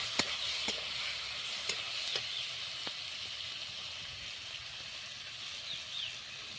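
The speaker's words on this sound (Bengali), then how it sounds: "মশলার সঙ্গে একটু আলু বেগুনটাকে কষিয়ে নেব।" Potato and eggplant are fried with spices in a pan for a fish curry. A soft, steady sizzle runs throughout, with a few faint taps of a spatula against the pan.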